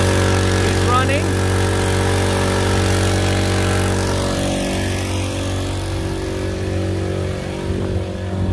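A brand-new outboard engine on a pontoon boat runs steadily at idle, a constant low hum with a faint rising whine, heard up close out on the water while people talk over it.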